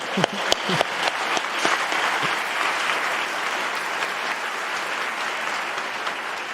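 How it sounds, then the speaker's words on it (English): At a law school convocation, a large audience applauds: a few sharp individual claps open, then the sound swells into steady, full applause from a big crowd that holds for several seconds. "I believe we all deserve a big round of applause"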